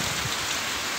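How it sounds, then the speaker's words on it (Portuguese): Heavy morning rain with thunder falls on the ground in Picuí, Paraíba, in the Brazilian sertão, a dense, steady roar of drops close by with no voices over it. "Olha a chuva caindo no chão aí, ó."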